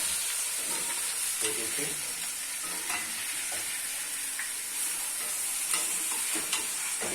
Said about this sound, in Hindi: देखिए इस तरह से चिकन को अच्छे से भून लेंगे। चिकन की भुनाई करना बहुत जरूरी है लहसुन अदरक और प्याज के साथ।